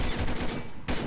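A quick cluster of gunshots in Combat Arms, several close sharp cracks packed into about a second, with a short gap near the end.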